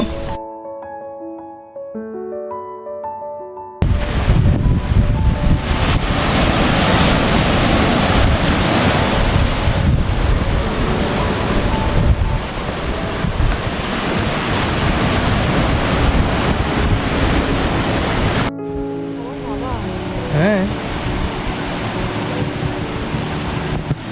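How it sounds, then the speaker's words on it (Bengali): Surf rolls onto Plage de l'Écluse beach in Dinard, France. A steady, loud roar of waves mixes with heavy wind buffeting for most of the stretch, with music playing before and after. "এই প্লাস দু লেখলুজ দিনারদের সবচেয়ে বিখ্যাত ও কেন্দ্রীয় সৈকত"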